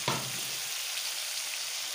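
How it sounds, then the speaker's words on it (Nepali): Onions sizzle in a hot pan, a bright, crackling fry that starts with a brief louder hiss as they hit the oil and then settles into a steady, close sizzle. "पहिला प्याज हाल्छु। प्याज रातो बनाउँछु।"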